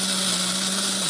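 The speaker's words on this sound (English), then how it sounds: "this coffee grinder heats up too much and just doesn't like milling all this grain." A coffee grinder mills einkorn grain with a steady high whirring grind that holds constant and then drops in pitch as it slows near the end, heard alone and close.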